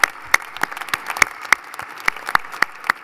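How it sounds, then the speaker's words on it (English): Applause from an audience at a business community gala dinner, with scattered individual claps standing out sharply over a steady bed of crowd clapping throughout. "we've just given an applause, but let's give another one"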